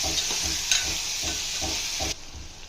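Drumstick pieces stirred with salt into tamarind stew in a hot pan, a steady sizzling hiss with soft, regular scraping strokes of the spoon, then the sizzle dropping off near the end.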